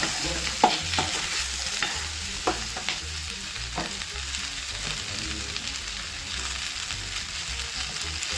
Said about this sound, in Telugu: ఇప్పుడు కట్ చేసిన కొత్తిమీర కొంచెం వేసుకుంటున్నాను వేసుకొని రెండు నిమిషాలు ఫ్రై చేసుకోవాలి